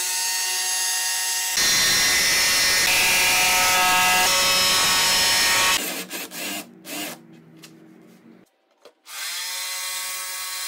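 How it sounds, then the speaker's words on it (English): A jigsaw cuts wooden pieces for a Winfield Christmas nativity yard display: a few seconds of loud, steady buzzing cutting noise, then a stretch of brief clunks and short bursts before a steady hum returns. "because I'm using a jigsaw, I will drill a hole first and then insert the blade down the hole and then start the"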